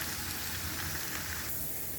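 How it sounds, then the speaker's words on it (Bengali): Potatoes frying in oil in a frying pan give a steady, moderately quiet sizzling hiss that holds evenly throughout with no voices. "এখন ভেজে নিব আলুগুলো।"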